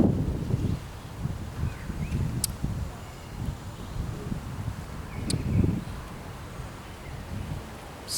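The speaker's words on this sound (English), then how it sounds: "This south wind is like incredible right now." Strong south wind buffets an outdoor microphone, rumbling in gusts that swell and fade over several seconds, with a couple of faint sharp ticks in between.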